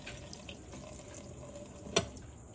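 A bathroom tap runs a thin stream of water into a sink, giving a soft, steady trickle, with one brief splash or clink near the end.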